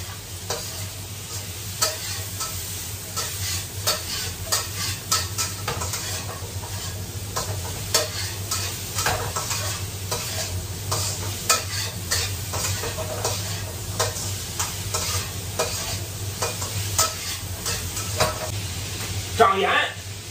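Pork strips and green beans stir-fry in hot oil in a wok, producing a continuous sizzle with frequent scraping stirs of the spatula, close and fairly loud, with no speech.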